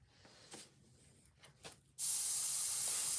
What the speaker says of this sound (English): if you're looking for an airbrush, just make sure. Oops, you're not on camera. I'm zoomed way in still. Just make sure you get a dual stage.